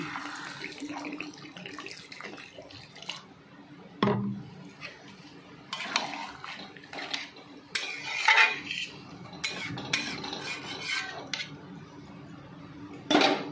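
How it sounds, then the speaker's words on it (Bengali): A metal lid set onto a cooking pot while a fig dish simmers with water: a few sharp clanks and clatters of metal cookware, spaced apart, over a faint wet kitchen background. "এবারে উপর থেকে একটা ঢাকনা চাপা দিয়ে দিলাম।"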